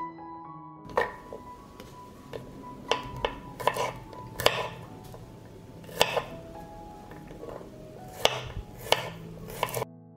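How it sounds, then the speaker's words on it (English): A knife chopping six garlic cloves on a cutting board, a run of crisp irregular knocks spaced through the stretch, some close together, with faint kitchen clinks beneath and no talk. "I will chop 6 cloves of garlic"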